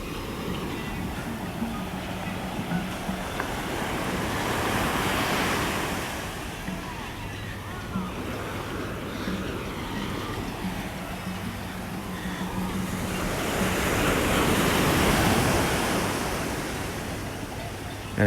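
Ocean waves break at the water's edge on Coney Island, a continuous surf wash that swells and recedes in two broad surges, close and fairly loud.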